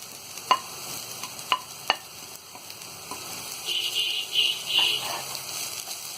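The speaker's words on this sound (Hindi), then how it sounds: "हल्का क्रंची होने तक ही फ्राई करेंगे।" Onion, capsicum, cabbage and carrot stir-fry in a pan for momo filling, a steady close sizzle broken by a few sharp spatula taps early on, with the frying growing louder and more crackly toward the end.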